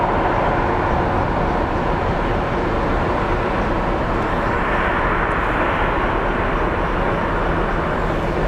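A JSX jet taxis at Sky Harbor International Airport in Phoenix, its engines producing a steady, loud broadband roar that holds throughout with no talking.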